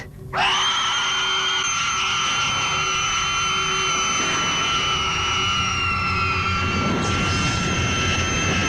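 A loud, steady, high-pitched turbine whine from a film's pre-launch engine holds for several seconds, with a rougher roar swelling near the end.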